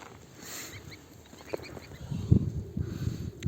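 A flock of geese, with newly hatched goslings and mother geese, calls in a few brief honks and quacks that rise more clearly toward the end over a low outdoor rumble.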